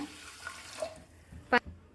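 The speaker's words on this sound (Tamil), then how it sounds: "வந்து பருப்பு வேகிற அளவுக்கு தண்ணி ஊற்றிக்கலாங்க" Water being poured from a vessel over washed mung dal in a pot before boiling, a soft steady trickle and splash that ends with a brief clink near the end.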